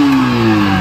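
A modified Yamaha R15 V4 motorcycle engine revs loud and close, a brief sustained buzzing tone whose pitch sags slightly over under a second, with no voices.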